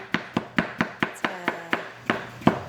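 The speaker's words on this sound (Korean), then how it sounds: "자 일단 감자 썰어서 시범 한번 보였어요" A knife chops through a raw potato, cutting it into pieces: about eleven crisp, evenly spaced strikes against the board, close and loud, with no talking.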